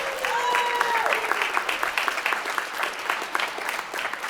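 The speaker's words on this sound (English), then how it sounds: "Let's give him a round of applause." An audience at a commission meeting applauds a grand prize business winner, a florist, with steady clapping, a brief whistle near the start and faint voices mixed in.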